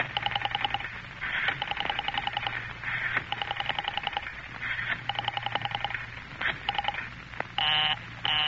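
Telephone dialing in a classic radio drama: repeated bursts of touch-tone beeps in quick sequences, fairly close and clear, with a low steady hum beneath and no talking.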